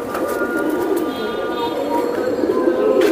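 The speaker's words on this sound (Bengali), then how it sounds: "এই যে দেখেন কবুতর" Racing giribaz pigeons cooing close by in a continuous, steady chorus, with bird calls layered over a background of low murmuring and ambient noise.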